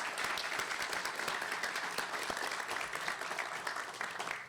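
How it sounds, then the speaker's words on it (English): Applause from a seated audience honours elected officials at a building naming ceremony, a steady, moderately faint patter of many hands clapping throughout. "Let's give them all a big round of applause."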